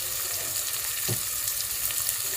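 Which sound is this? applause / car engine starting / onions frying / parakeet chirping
onions frying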